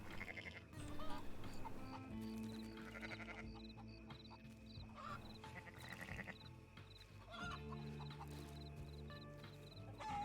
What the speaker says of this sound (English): Never seen stupider chickens in my entire life.